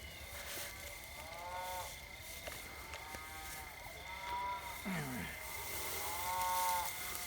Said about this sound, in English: I hear dogs howling everywhere.